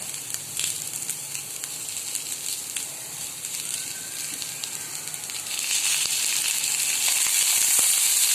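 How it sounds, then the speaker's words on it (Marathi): Onion and garlic roast in a little oil, a continuous close sizzle and hiss that swells louder in the second half, with no voices. "कांदा आणि लसणासाठी सुद्धा आपल्याला थोडंसं तेल टाकून भाजायचं आहे"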